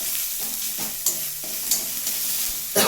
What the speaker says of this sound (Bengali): এবার আবার তেলটা গরম করে এই যে আদা কুচি, রসুন কুচি, এটা হালকা একটুখানি ভেজে নেবো